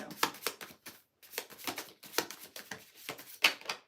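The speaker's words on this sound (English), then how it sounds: "This is already hard enough to shuffle." A deck of tarot cards is shuffled by hand in a series of crisp riffling bursts, close and fairly quiet, separated by brief pauses, with no talk during the shuffling.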